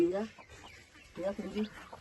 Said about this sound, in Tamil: கோவக்கார கோழி சைடில் எட்டி பார்க்குது